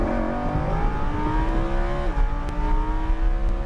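Lamborghini Huracan LP 610-4 on a race track, its engine climbing steadily in pitch as power is fed in, a loud continuous close-up roar with rising harmonics and a brief dip before pulling hard again.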